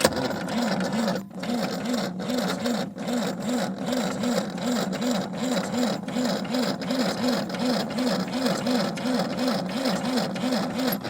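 Tractor diesel engine turning over under the starter with a weak battery, a steady rhythmic cranking churn that continues throughout, loud and close.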